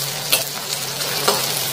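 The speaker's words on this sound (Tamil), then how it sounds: "வெங்காயம் கொஞ்சம் நல்லா பொன்னிறமா வருக்கணும்" Onions fry in a pan, browning with curry leaves, under a loud steady sizzle broken by two sharp stirring scrapes, with no voices.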